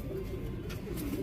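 A pigeon, a 17 to 18 year old border line bird, gives soft low coos close by, faint and brief against a quiet background.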